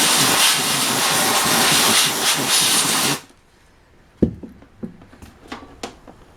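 Spray cleaner hisses loudly and steadily onto the internal parts of a VCR for about three seconds, close up, followed by quiet clicks and taps of handling.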